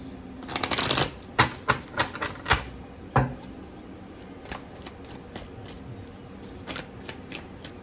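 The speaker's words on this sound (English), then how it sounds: "Let's do one more shuffle." A deck of cards being shuffled: a riffling burst followed by several sharp snaps and clacks, then sparser taps, close and fairly clear with no talking.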